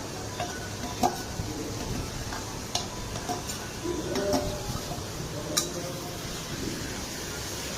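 Ginger-garlic paste frying with browning onions for a mutton kosha curry, with a soft steady sizzle and several sharp clicks of a spatula against the pan, some spaced clicks and some in quick succession.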